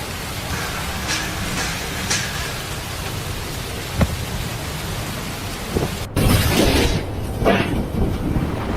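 Typhoon Yagi on Hainan Island brings heavy rain with scattered thunder. The steady roar of rain is broken by a brief gap, after which the downpour and wind return louder.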